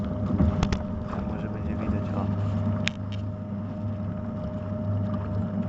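A small Soviet "Malyutka 2" washing machine motor drones with a steady low hum and faint tonal whine, one brief click near the middle, and no talking.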